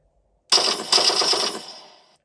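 Rapid burst of simulated machine-gun fire from a Clark TK50 sound board in an RC tank, two loud close bursts of stuttering rattle lasting about a second and a half, then tailing off, with no talk.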